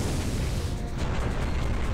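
A heavy enemy cannon blast in the giant-robot game Robot Alchemic Drive, heard as a sustained loud rumbling boom that fills the whole moment with dense low roar, without speech.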